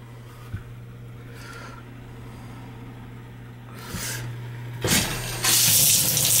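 Water is let into newly joined basement plumbing pipes to test the joints for leaks: a low steady hum with faint trickling, then louder rushing bursts of flow near the end.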